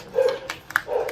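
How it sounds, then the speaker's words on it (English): A pet dog barking indoors in the background of a home, giving a couple of short, muffled yips within a second. "Pardon my dog in the background."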